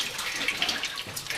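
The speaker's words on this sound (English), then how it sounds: "Dump the water into my bucket" Water is dumped from a whole-house water filter housing into a bucket, a brief close splashing gush lasting just over a second.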